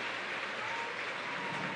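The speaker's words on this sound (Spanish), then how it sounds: "Y el público aplaude" A basketball arena crowd applauding an injured Barcelona player at a Hestia Menorca versus Barça game, a dense, steady wash of clapping that fills the whole moment without pause.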